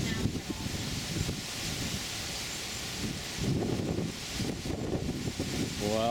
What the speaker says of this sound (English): but now we're getting more wind.